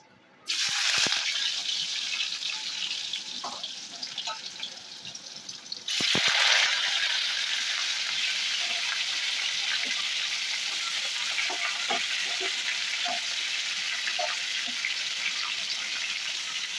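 Sugar browns in hot oil in a pan, crackling and sizzling steadily throughout, with a sharp burst of louder frying near the start and again around six seconds, then a continuous dense hiss.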